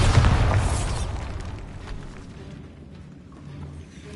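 The Bombarda blasting spell in Hogwarts Legacy bursts with a deep, rumbling boom followed by a crumbling, debris-filled decay that fades over a few seconds.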